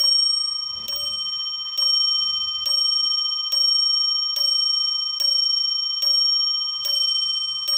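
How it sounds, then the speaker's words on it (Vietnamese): A German wall clock strikes its chime, nine evenly spaced bell strokes about one second apart, each ringing clearly and decaying before the next, close and alone with no talk. "Con này thì đổ chuông 1 tiếng 2 lần, ở giờ rưỡi thì nó sẽ điểm một hồi chuông ha"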